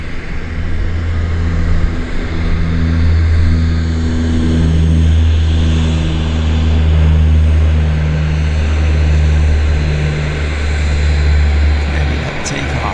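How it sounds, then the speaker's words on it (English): A Central Mountain Air plane departing Vancouver YVR, a steady propeller drone with strong low throbbing tones that holds fairly loud and close for the whole stretch, with faint talk audible beneath it. "We've got another Central Mountain departure"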